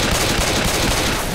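Continuous rapid gunfire in the zombie shooter game Left 4 Dead, a dense, loud automatic volley with no pauses.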